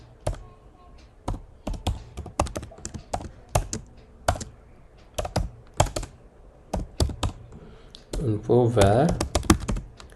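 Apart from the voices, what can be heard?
typing an SQL query on a computer keyboard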